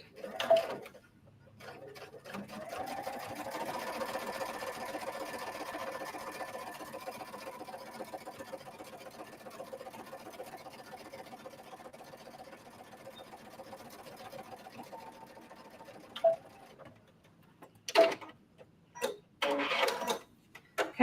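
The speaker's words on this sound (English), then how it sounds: "So I'm going to top stitch along the curve edge and then come back and try to get in that last little corner." A sewing machine top stitches along the curved edge of an embroidered sunglass case, running in one steady, moderately loud stretch before stopping, followed by a few short, separate bursts of stitching and handling.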